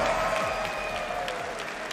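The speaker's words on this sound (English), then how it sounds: "Round of applause, please." A crowd of spectators at a Dota 2 Berlin Major esports event claps and cheers in a broad, steady wash of applause, with a faint tonal hum running underneath.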